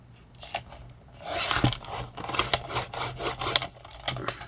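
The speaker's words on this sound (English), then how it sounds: "I have to trim it with my scissors." Scissors trim paper close by, a quick series of crisp snipping strokes with slight rustle between them.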